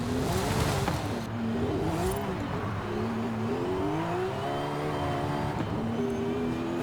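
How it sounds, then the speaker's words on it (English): A Porsche 911 with a twin-turbo 4-liter engine in a video game revs loudly and steadily, its pitch rising and falling in sweeping waves over a continuous engine drone, with a whiny gearbox tone mixed in. "Porsche engine with the twin turbos now."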